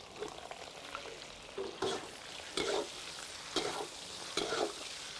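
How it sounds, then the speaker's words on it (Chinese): Cured pork stir-fried in hot oil with Sichuan peppercorns, chilies and ginger slices: an even sizzle broken by five or six bursts of spatula tossing and scraping, close-up and without talk. "油热了，加上2颗花椒、海椒爆香，加上姜片，然后把腊肉倒进来了"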